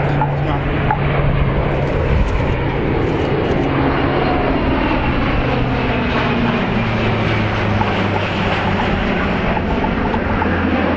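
A Royal Canadian Air Force CC-130J Hercules turboprop flies at the RAF Cosford Airshow, a loud, continuous, close engine roar and propeller drone that fills the whole stretch without letting up.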